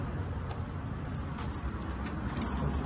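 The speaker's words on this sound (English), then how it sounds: "Got so many keys on this one." A large bunch of keys on one ring jangles and clinks while being sorted by hand during a mortise lock installation on a door, a soft continuous metallic rattle close by with no talking.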